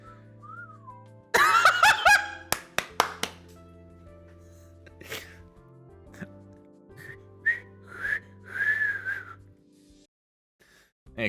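A cocky, jaunty whistle rises and falls in short melodic phrases over soft game music in Arknights, following a burst of sharp clicks and smacks near the start.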